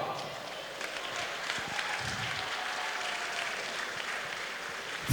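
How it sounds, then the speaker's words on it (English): An arena crowd at a Fightstar Championship MMA event applauds both fighters after a three-round bout, steady clapping with cheering mixed in, moderately loud and sustained throughout. "round of applause for both fighters."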